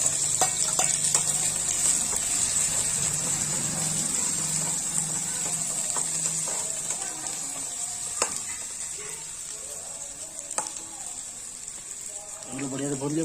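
Thickly chopped onions frying with a spoonful of cumin in oil for a gram curry, a steady hiss of sizzling with occasional stirring clinks and scrapes, while a person talks over it at times.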